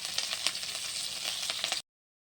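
Drumstick leaves and curry leaves sizzle in a hot pan with a bright, continuous crackling hiss close by, then the sound cuts off abruptly into silence.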